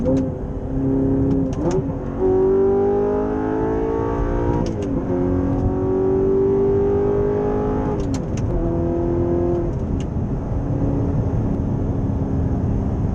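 A 2012 Audi R8 with a V8 and manual gearbox accelerating hard, its engine note climbing through several rising pulls with brief breaks at gear changes, loud and close from inside the cabin, with no talking.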